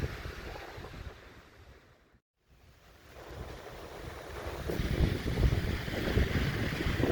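Surf and steady wind at the bend of Popham Beach, Maine, after a storm, a continuous roar that dips briefly then swells louder near the end.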